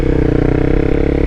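A motorcycle engine revs in a steady, sustained drone during a rev-matched downshift, running loud and close with a constant low rumble and no break.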